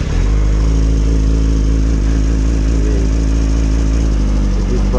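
A Yamaha V Star 650 motorcycle engine runs at a steady idle, close and loud, with a deep, continuous rumble that does not change much.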